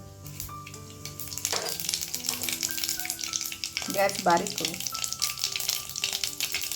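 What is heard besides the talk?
mustard seeds and cumin sizzling in hot oil tempering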